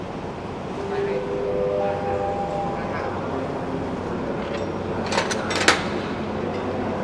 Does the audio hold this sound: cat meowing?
no